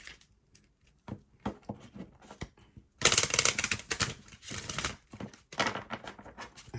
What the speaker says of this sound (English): And let's see, shuffle one more time.